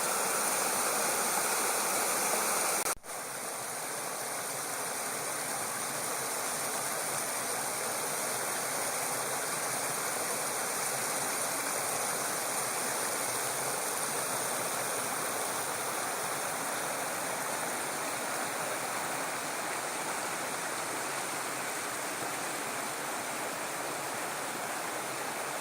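Small waterfall at Slaley/Healey Mill tumbling into a deep pool, a loud, constant rushing roar of falling water heard alone and unbroken, with a brief knock near the start.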